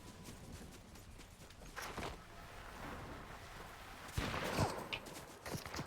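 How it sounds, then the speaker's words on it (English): Fortnite gameplay gunfire from another player: distant, muffled shots in a few scattered bursts over a windy, rushing background, with one louder crack near the end. "Someone's shooting at me."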